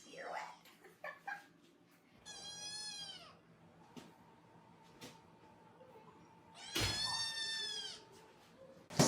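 A kitten meows in a few distinct, fairly close calls with pauses between, one longer rising cry in the middle and a loud wail near the end, while a person speaks softly in between.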